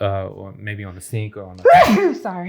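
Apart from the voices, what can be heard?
sneeze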